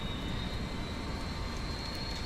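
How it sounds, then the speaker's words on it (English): Jet engines of an MD80 airliner spooling up during start in Microsoft Flight Simulator, a steady broadband roar with a thin high whine held throughout, even and continuous. "the actual noise in the cockpit is quite loud"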